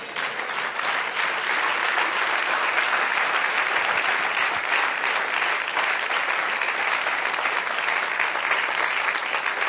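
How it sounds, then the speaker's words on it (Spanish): A church congregation gives sustained applause to the Lord, a dense, steady wash of many clapping hands filling the room without a break. "Denle un aplauso al Señor."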